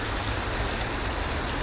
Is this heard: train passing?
no